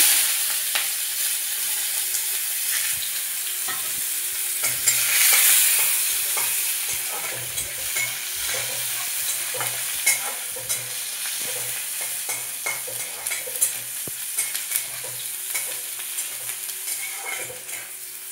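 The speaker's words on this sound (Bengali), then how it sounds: "পেঁয়াজটা একটু ভাজা ভাজা হয়ে আসবে" Onions sizzle steadily in hot oil while a spatula scrapes and stirs the pan in repeated strokes, close and fairly loud throughout.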